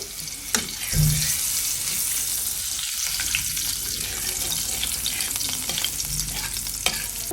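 Onions being stirred in a frying pan, with a loud, steady hiss of frying and a spatula scraping repeatedly against the pan, close up.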